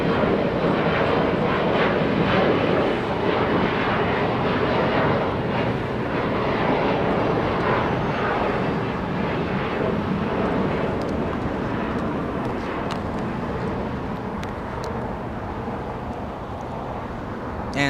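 A Singapore Airlines Boeing 777 at Los Angeles International Airport after pushback gives a sustained, fairly close engine roar that fades slightly toward the end, with faint occasional clicks and no talking.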